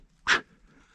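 A single short, breathy hunting dog pant up close, a quick huff of air followed by quiet, during a woodcock hunt in Charente, France.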